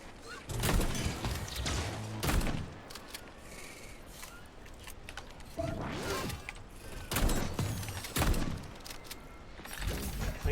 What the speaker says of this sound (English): Shooting some kind of laser.